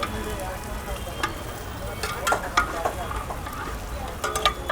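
Quail curry sizzles steadily in a pan as mutton stock is added and stirred in, a continuous frying hiss with occasional scraping clinks from the stirring utensil.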